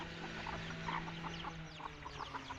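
A small flock of eight chickens, including a hen and a young rooster from the first hatch, clucks close by, with repeated short, overlapping clucks and chirps over a low background hum.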